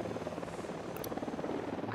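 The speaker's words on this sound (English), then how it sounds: "Don't need that chopper. Stay low." A helicopter in the video game Ghost Recon Wildlands drones steadily with a dense rotor chop, loud and close throughout with no talk over it.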